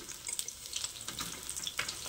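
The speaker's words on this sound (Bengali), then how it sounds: "এই যে মাছ ভাজছি, দেখো দুপুরে রান্না করব।" Fish fries in a pan for a home lunch, with close, steady crackling and spitting oil and no voices.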